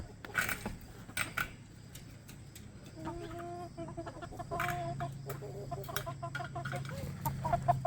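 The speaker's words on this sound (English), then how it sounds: "We're gonna try to gently herd these last couple chickies to the end of the fence." Chickens clucking close by in an outdoor run, soft repeated clucks and short calls over a low background rumble, building slightly louder toward the end, no speech.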